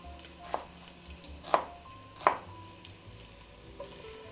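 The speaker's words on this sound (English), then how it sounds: "Throw in our onions." Chopped onions dropped into a pot of hot olive oil, a quiet frying sizzle broken by a few short stirring knocks and scrapes, with no talk.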